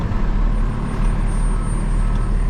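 A Freightliner truck idles and rolls slowly through a parking lot, its heavy diesel engine rumbling low and steady up close without a break.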